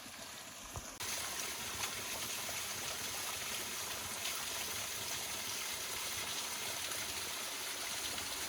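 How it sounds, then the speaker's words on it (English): Small waterfall along a mountain hiking trail on Kauai, Hawaii, a steady close rush of falling water that holds evenly throughout and gets louder after the first second, with no voices. "I've come up upon a secret little waterfall."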